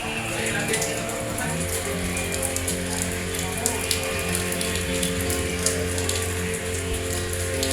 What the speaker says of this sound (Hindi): भाई बाहर बहुत ज्यादा बारिश पड़ रही है